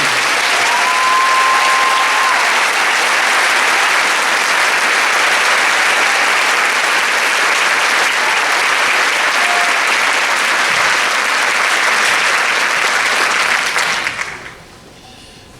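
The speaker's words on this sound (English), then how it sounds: "Let's give them a great big round of applause." A large crowd at a school district in-service gives loud, dense, continuous applause for about fourteen seconds, then it fades quickly to a quiet room.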